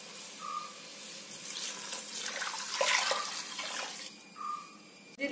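Water for cooking rice, two glasses to one of rice, starts to boil in a pot, giving a soft bubbling and hissing that swells midway, with a faint tone at each end.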